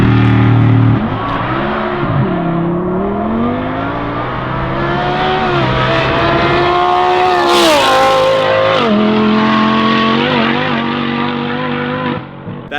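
A Lamborghini with an F1-style exhaust revs hard and echoes, loud rising and falling engine tones with sharp throttle blips and crackle, ringing off nearby surfaces.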